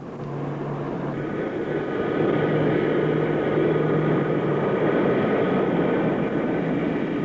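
Airplanes landing one after another at an airport used by pilgrims heading to Mecca, a steady loud engine roar that swells after a couple of seconds and holds, with no voices.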